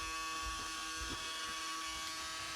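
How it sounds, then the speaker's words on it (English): Motor of a rising swamp hag animatronic decoration straining to run, a steady close buzzing hum with slight wavering, continuous and fairly loud throughout. "you'll hear the motor trying to go"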